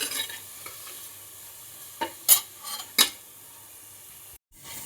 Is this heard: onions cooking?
yes